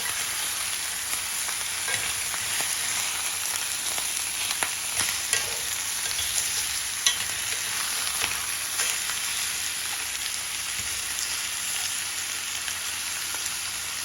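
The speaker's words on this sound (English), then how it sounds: "while you are preparing your neck bones, letting them get brown first and then season them" Pork neck bones brown in a pot, a continuous close frying sizzle with scattered crackles and pops that holds steady throughout, with no talking.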